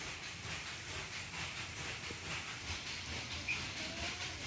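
Garlic and onion fry in soybean oil in a kadai on a stove, producing a soft, even hiss that stays unbroken and fairly faint.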